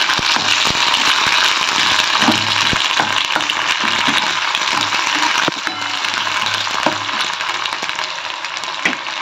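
Black cumin and chopped onion sizzle in hot oil for a potol bharta, a steady, loud, close frying hiss with occasional spoon clicks and a slight drop in intensity partway through.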